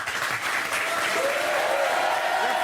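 A French TV studio audience applauds a comedian guest, sustained even clapping close and full with a faint tone drifting underneath.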